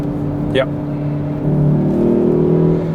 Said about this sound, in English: The exhaust on this thing sounds really good, right?